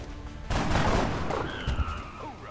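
A sudden burst of gunfire in the XCOM: Enemy Within video game, a loud rattling volley that rings out for about two seconds before tapering, with a faint synthetic whine trailing behind.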